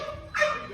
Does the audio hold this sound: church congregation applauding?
no